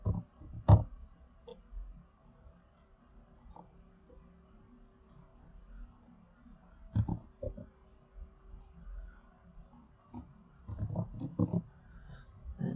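Sparse mouse clicks while editing layers in a timeline: sharp isolated taps with a few quick clustered clicks near the end, faint over a quiet background.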